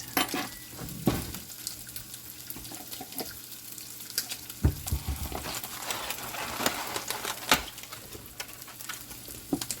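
Oil popping and sizzling in a pan while turkey Spam fries, with scattered sharp crackles and pops over a steady hiss, close and moderately loud, with no talking.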